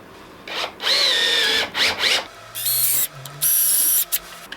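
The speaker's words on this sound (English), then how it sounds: "take a 5mm drill and drill the rivet head holes" A 5mm drill bit boring through rivet head holes in a fire striker for a Victorinox Swiss Army knife, heard as several loud, close bursts of high-pitched whining drill noise separated by short pauses.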